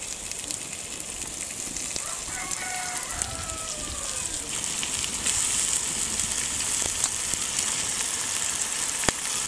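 Washed quail pieces hitting hot roasted ground masala in a pan, a steady close crackling sizzle that carries on throughout with occasional stirring clinks.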